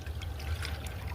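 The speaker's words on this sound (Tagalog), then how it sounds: "Tapos hinahaluan ko ng konting tubig." Water poured into a bucket of soaked banana peels, a brief close trickling stream with a low sloshing rumble, no talk.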